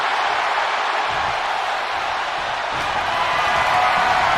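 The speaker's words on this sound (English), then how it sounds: "The sound of this crowd is deafening, and he's asking for more." A packed wrestling arena crowd roars in the video game WWE 2K24, a dense, loud, unbroken wall of cheering that holds steady throughout without a pause.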